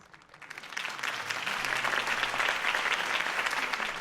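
A crowd bursts into applause after Harvey Dent's campaign speech, swelling quickly from near quiet into a dense, sustained wall of clapping that holds steady to the end.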